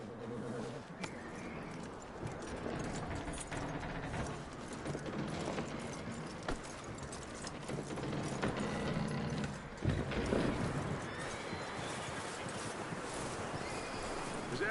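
A horse in the Red Dead Redemption 2 video game whinnies and snorts over hoof clip-clops and mechanical clicking of gear or tack, at a low, steady level throughout.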